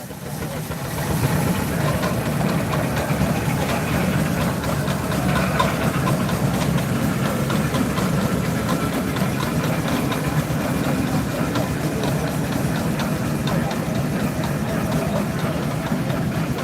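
A steam traction engine at a threshermen's reunion steam games event runs with the throttle opened, giving a steady, loud, low chuffing rumble that continues without a break for the whole stretch, with no clear speech.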